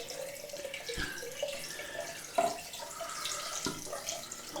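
Water from a bathroom sink tap runs and splashes steadily as the basin is emptied and refilled with hot water, with a few soft knocks and clunks from handling, close and moderately quiet with no talking.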